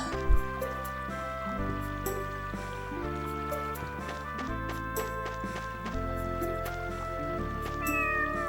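Cat meowing in the Tales of the Abyss video game, a brief meow near the start over steady looping game music that continues throughout.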